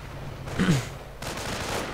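Burst of MG-42 machine gun fire in a World War II strategy video game, a rapid rattling volley over a low rumble of battle noise, moderately loud with no voices.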